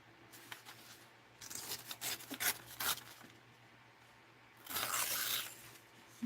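Paper is torn by hand while cutting and trimming for a mixed-media art journal, giving quiet, close ripping and rubbing bursts with a longer tear near the end.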